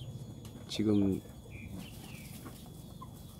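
Roosters cluck in a short, loud, throaty burst near a brooding Araucana (cheonggye) hen sitting on her eggs, with someone speaking softly nearby and a faint farmyard hum around them.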